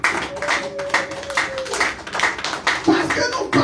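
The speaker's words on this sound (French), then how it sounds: "Est-ce qu'on peut acclamer pour la gloire de Dieu?" A church congregation claps in a steady rhythmic beat, hands striking together roughly twice a second, with voices speaking and calling out over the clapping.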